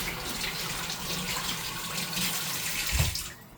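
Potato wedges are rinsed and swished in a bowl of water, a steady close splashing and trickling that runs throughout with a brief louder slosh near the end.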